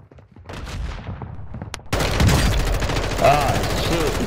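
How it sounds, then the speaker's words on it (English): Dense video-game gunfire crackles in rapid bursts, quieter at first and then louder and continuous after a sharp jump, with voices talking over the shooting. "You are taking effective fire."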